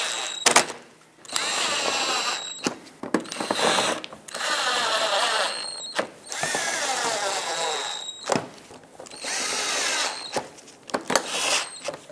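A power drill drives screws into the bumper of a Mazda 6 in repeated short bursts, its whirring motor rising and stopping between screws with ratcheting clicks, close and clear with no talking.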